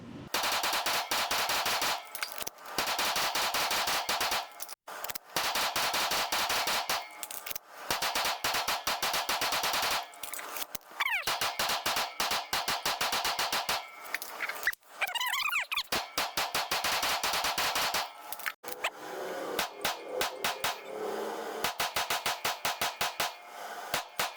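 A PSA Dagger full-size 9mm pistol fires in rapid strings of sharp, loud, close shots outdoors, with short pauses between bursts and a few quieter gaps, no talking.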